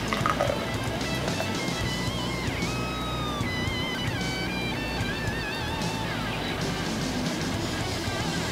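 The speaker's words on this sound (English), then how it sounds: "Let's see how this pours." Einstök White Ale, an Icelandic 5.2% wheat beer, pours into a glass with a steady liquid rush and fizzing that runs for several seconds at moderate level, with no voices.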